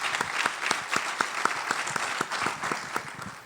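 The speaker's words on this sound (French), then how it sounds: "Je vous demande de les applaudir, s'il vous plaît." Audience applause at a gala, moderate crowd clapping in a steady rhythm of distinct claps, fairly close and even for a few seconds.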